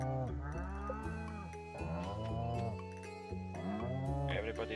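Cow moos from the Stardew Valley video game sound several times in a row, clear and fairly loud, with layered bellowing calls and no talk over them.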